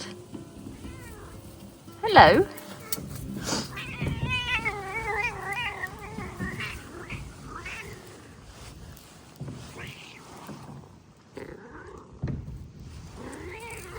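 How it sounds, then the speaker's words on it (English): A cat meows repeatedly in a spring garden, its drawn-out, wavering cries rising and falling close by, with someone talking and a brief greeting over it. "there's a cat."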